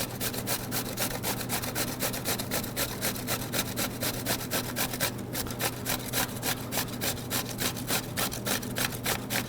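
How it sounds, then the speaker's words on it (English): A cucumber is rubbed over the largest holes of a box grater in a fast, even train of rasping strokes, close and steady with no pause. "So we're just going to take this on the largest setting of our box grater and just break this down."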